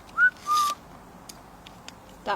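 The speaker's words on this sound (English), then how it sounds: "Can you whistle?" Two quick whistled notes, the first sliding upward and the second held briefly, sound faintly in a quiet room during a ghost-hunting investigation, followed by a few soft clicks.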